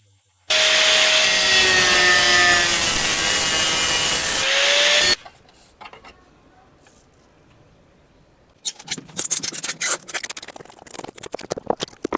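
A power tool grinds loudly through a pipe joint on a Samsung refrigerator for about four seconds, a harsh, whining abrasive rasp. It stops abruptly, followed by faint handling noises and then scattered crackling and scraping.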